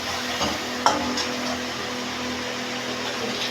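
Fried potatoes stir-fried in katla fish curry masala give a steady, close sizzle with a broad hiss, broken by one sharp clink of a spatula against the pan.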